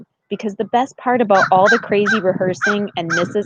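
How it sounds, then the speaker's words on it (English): A pet dog barking with a few short yips and barks in the home while someone talks continuously over them, her voice dominating. "oh, you guys, that's our dog."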